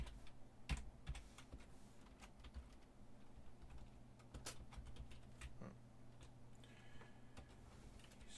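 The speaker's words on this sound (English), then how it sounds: "So I can just type in a short code like AB." Someone types a short code on a computer keyboard: faint, close, irregular key taps in small clusters against a quiet room hum, with no talking.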